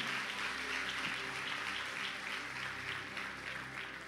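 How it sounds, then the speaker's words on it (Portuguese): A church congregation applauding during a Christmas musical service, a soft, continuous patter of many hands clapping, fairly faint and steady throughout. "Você pode aplaudir o Senhor Jesus?"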